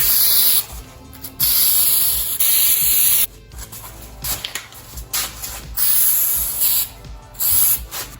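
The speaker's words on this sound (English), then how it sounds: "I used Rust-Oleum spray-on truck bed coating to finish the hatch" Bursts of hissing Rust-Oleum spray-on truck bed coating applied to a boat hatch, loud and close, in several long passes separated by brief pauses, with faint rubbing and handling noises between.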